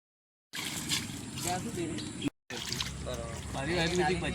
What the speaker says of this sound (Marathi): आपण गणेशपुरी कुंडावर आहोत आणि सर्वांची आंघोळ चालू आहे आणि गरम गरम पाणी आहे